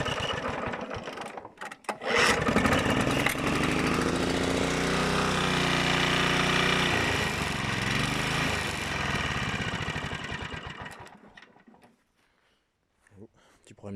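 A Honda GV150 small engine with priming trouble catches and runs for several seconds with a loud, uneven buzz, then cuts out and falls quiet.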